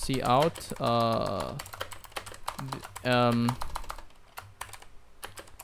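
Clicky computer-keyboard keystrokes in irregular bursts while C++ code is typed, close and crisp, with someone talking between and over the typing.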